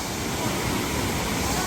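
A small waterfall at Kakkadampoyil on a rainy, misty day gives a steady, dense rushing roar, close and unbroken from start to end with no rise or fall.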